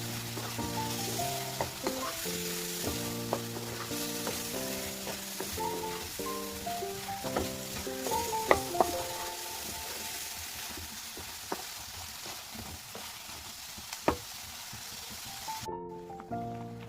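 Brinjal sautés in oil in a pan for a kuzhambu, giving a steady soft sizzle with occasional stirring clinks, heard under background music that plays through most of the clip.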